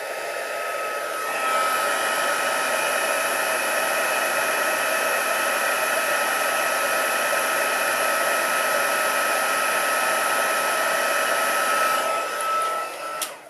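An embossing heat gun blows hot air over a crafting project in one loud, steady whooshing roar that starts, holds evenly for about ten seconds, then cuts off.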